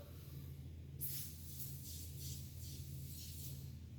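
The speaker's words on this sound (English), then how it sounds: "I like to spray it directly onto my rags" Windshield polish sprayed onto a rag from a spray bottle, giving a run of short hissing bursts in a quick rhythm over a steady low hum.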